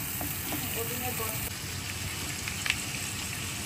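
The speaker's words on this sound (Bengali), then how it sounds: "আমি এখানে রসুন আর পেঁয়াজ দিচ্ছি, হলুদ দিচ্ছি একটু, আর একটু ধনিয়ার গুঁড়ো দিচ্ছি। চিংড়িটাকে হালকা বেজে নিব" Prawns sizzle gently in a pan with garlic, onion, turmeric and ground coriander, a steady quiet frying hiss with faint crackles throughout.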